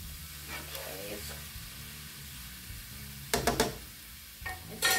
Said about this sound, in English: I'm doing a stir fry on it, on my cabbage.